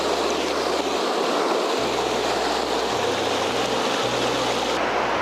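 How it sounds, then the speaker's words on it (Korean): A river at a quiet riverside camping spot in Gulji-ri rushes and splashes in a continuous, full broadband wash, loud and close, with low rumbling underneath. "와 물소리 좋습니다"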